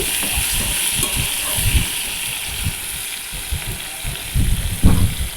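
Tomatoes sizzle in a pan under a constant hiss, with soft scraping and stirring sounds growing louder toward the end.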